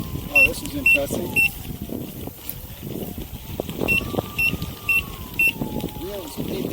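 Repeated short electronic warning beeps from a Veteran Sherman electric unicycle overheating during an uphill stress test, sounding in clustered bursts over road and motor noise, with a rider talking throughout.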